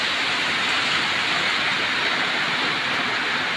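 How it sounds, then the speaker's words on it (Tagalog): Heavy typhoon rain pours down in a loud, unbroken roar, close and steady with no voices heard. "Ibang lakas ng ulan."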